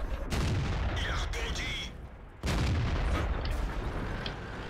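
Tank cannon fire in World of Tanks: two heavy, loud booms with rumbling tails, separated by a short dip, with a voice speaking over the battle.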